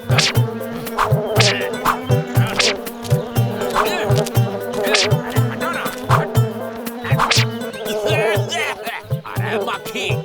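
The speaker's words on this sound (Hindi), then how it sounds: "अरे मक्खी, हमारा दूध से दूर रहो।" Cartoon housefly buzzing around milk, a steady droning whine with rhythmic wingbeat pulses that continues loudly throughout over a light musical bed.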